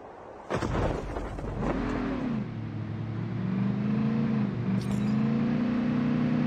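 A vehicle in Call of Duty Mobile's battle royale mode drives close by, its engine humming steadily and rising in pitch as it accelerates, with a loud onset and a sustained revving drone throughout.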